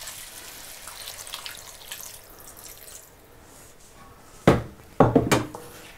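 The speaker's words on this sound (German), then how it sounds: "Ich gebe jetzt ein Stück Wasser hinzu, so etwa 200 Milliliter." About 200 millilitres of water splashes into a pot for a tandoori wok curry in a few short, close bursts after a stretch of quiet kitchen background noise.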